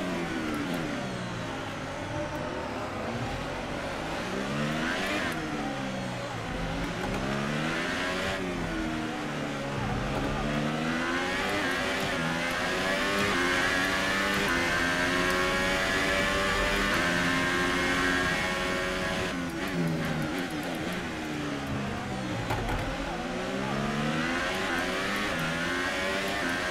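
Race car engines in the F1 2018 video game roar and rev continuously, pitch sweeping up and down through gear changes as another car closes from behind, with a driver's voice talking over the engine noise.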